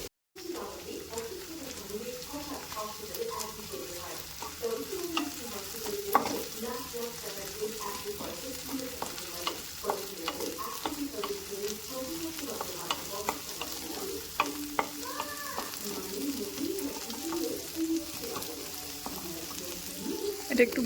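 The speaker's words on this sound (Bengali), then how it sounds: "এটা একটু ভাজা হোক, তারপরে দিয়ে দেবো সবজিটা।" Chopped ginger and green chilli fry in a pan with a continuous crackling sizzle and occasional stirring scrapes, while a person talks over the cooking.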